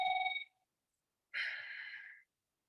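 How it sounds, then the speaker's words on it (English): A phone ringtone plays in two short electronic bursts with a silent gap between them, the first brief and the second lasting nearly a second, heard alone. "That's my phone."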